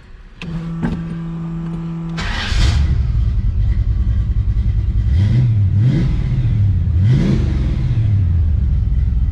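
A V8 Ford Ranger show truck with a C4 transmission cranks with a starter whine, catches and settles into a loud, close idle, then revs up and back down several times in quick blips.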